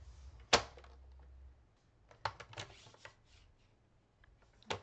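Paper cut for a stamp craft project: a sharp snap of a trimmer blade followed by a few scattered light slicing and rustling sounds, close and sparse in a quiet room.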